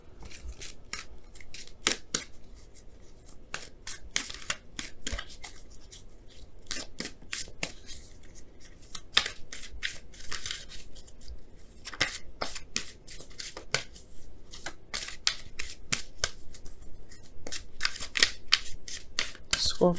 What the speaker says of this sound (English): we're gonna pull some Romance Angels cards